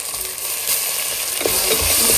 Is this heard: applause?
no